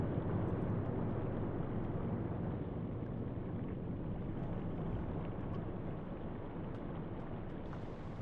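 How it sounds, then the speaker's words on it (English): Steady broadband wind and sea rush surround a Type VIIC/41 U-boat surfaced at sea off Gibraltar in 1941 in the game UBOAT, a constant roaring noise that stays even and unbroken throughout, with no voices. "It's a bit windy."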